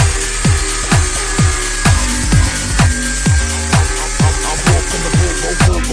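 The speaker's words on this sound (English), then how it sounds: "so I'll grind out that little bit there too" A power grinder works on a damaged ball joint thread from a bent control arm, giving a loud, continuous abrasive whine broken by regular rhythmic scraping strokes about every half second, close up.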